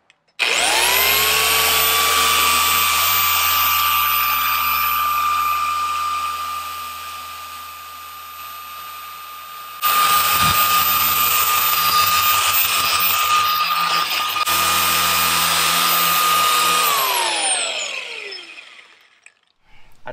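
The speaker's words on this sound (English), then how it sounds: "Let's buff this up and see what kind of shine we're going to get out of this old paint." An orbital polisher buffing old paint on a 1996 Ford Bronco whirs steadily at a high pitch, droning continuously for about seventeen seconds with a brief dip in speed, then spins down to stop.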